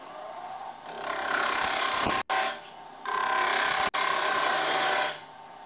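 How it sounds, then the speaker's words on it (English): A wood lathe spins a workpiece held in a Robert Sorby wobble chuck while a cut is taken, a steady close whirring and grinding broken by two brief silent gaps. "start the lathe and continue with the same cut"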